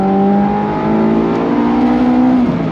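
A Honda S2000 engine revs steadily upward toward 8,000 RPM, a loud, continuous rising whine with climbing harmonics that holds high before dropping off near the end.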